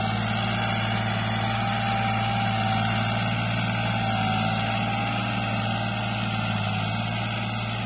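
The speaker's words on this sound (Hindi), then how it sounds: "और पहले से ट्रैक्टर की आवाज में भी फर्क आ गया।" A steady diesel engine of a New Holland 3600-2 Super tractor chugs at a constant low idle-like rumble, close by and unchanging throughout, with no talking.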